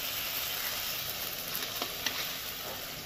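Water poured into hot oil and spice masala in a pan for a rohu fish curry, giving a steady, moderate sizzle and hiss with a few faint crackles, no voices.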